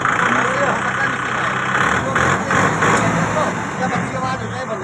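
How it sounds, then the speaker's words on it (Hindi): A Kubota MU5502 diesel tractor engine chugs steadily at idle, a constant low mechanical drone, while people talk over it nearby. "ट्रैक्टर स्टार्ट करो"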